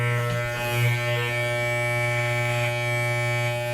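Electric hair clippers buzz steadily and up close through a home haircut while edging the hair along the ear, a constant mains-pitched hum with no talk over it.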